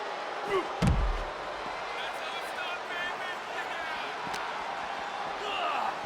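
A wrestler is slammed to the mat in WWE 2K25 during an ambulance match, giving one heavy thud early on against steady arena crowd noise and commentary-like background.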